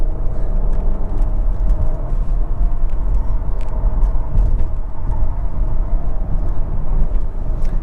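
A 2024 Genesis GV80 AWD 3.5T Prestige Signature drives hard around an interstate on-ramp, with a steady, loud low rumble of engine and road noise running throughout and no voices.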